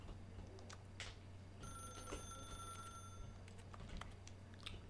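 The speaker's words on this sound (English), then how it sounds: "That's her, Stanley. You need to be the one to do this, to reach out to her. If you can truly place your faith in another, then pick up the phone" An old-style telephone rings in The Stanley Parable video game, a steady electronic trill pulsing through the middle of the clip over a low hum and faint background tones.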